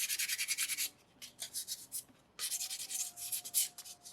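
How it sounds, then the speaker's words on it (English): Sandpaper, number 3 grit, rubbed over a small soapstone loon carving in a few close, scratchy strokes, a burst of rubbing, a pause with light touches, then another longer stretch of steady sanding. "maybe just run that over a few times with sandpaper number 3."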